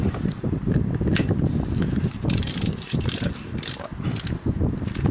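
A torque wrench ratchets rapidly while tightening aluminium bolts on a RaceFace 30T Cinch oval chainring on a Pivot Firebird mountain bike, a dense, close clicking that continues steadily throughout with slight rhythmic surges.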